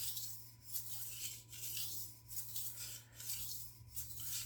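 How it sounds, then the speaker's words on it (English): A knife edge is drawn lightly across a coarse sharpening stone to remove the burr, giving soft, faint rhythmic rubbing strokes close by, with no voices. "Just deburring. Basically kissing the stone."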